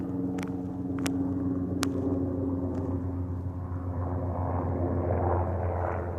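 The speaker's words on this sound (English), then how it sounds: "gotta wait for the plane to pass over" A faint, steady low rumble of a distant airplane passing overhead during rifle deer season in Pennsylvania, with a few soft clicks near the start and no talking.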